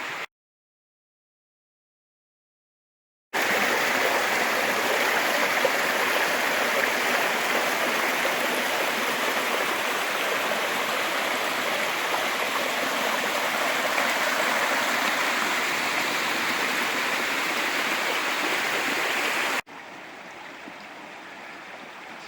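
A creek in Paris Mountain State Park near Greenville, South Carolina, flows steadily beside a hiking trail. The rushing water is loud and constant, making a broad hiss with no voices, and it cuts off near the end.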